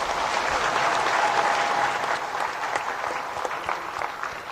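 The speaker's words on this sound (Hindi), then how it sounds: "और भी जोरदार तालियों के साथ आभार व्यक्त करें" Sustained audience applause at a Van Mahotsav forest festival ceremony in Ranchi, a steady wash of clapping from a crowd that tapers slightly toward the end, with no talk.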